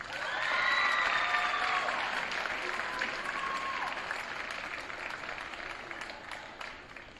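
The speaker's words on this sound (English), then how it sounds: "Another round of applause," Sustained applause from an audience at a St. Mary's Ryken school winter awards ceremony, steady clapping that swells early and tapers slightly, with a few whoops or cheers near the start.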